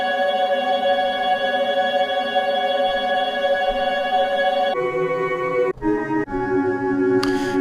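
A sustained granular synthesizer texture built from shimmering overlapping tones, some grains playing in reverse, shifting pitch partway through with small glitchy breaks, smooth and close.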